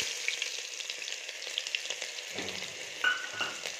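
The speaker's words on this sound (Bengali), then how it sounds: "এবার পেঁয়াজটা দিচ্ছি।" Onion dropped into hot oil already tempered with cumin seeds and bay leaf, a soft, steady frying sizzle that picks up with a few stirring scrapes near the end, close and quiet with no voices.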